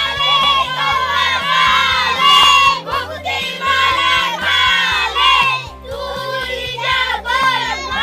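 Children loudly shouting to call crows at the Ghughutiya festival, a dense, continuous clamour of many young voices rising and falling in bursts over about eight seconds.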